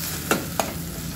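Garlic and ginger paste sizzles steadily in a pan for a mixed vegetable dish, broken by two sharp scrapes of a stirring spoon, close up and without talk.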